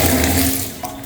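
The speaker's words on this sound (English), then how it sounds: "So just to see how absorbent they are, I'm going to run them under my bathtub." Water from a bathtub tap runs steadily onto disposable paper towels, a close, continuous splashing gush that eases slightly toward the end.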